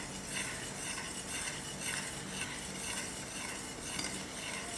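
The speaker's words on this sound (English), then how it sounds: "So you're first going to add in the maizena or cornstarch, and give it a quick stir." A utensil stirring cornstarch into lamb cooking liquid in a pot, a soft continuous scraping and swishing with faint clinks over a low simmering hiss, close and quiet.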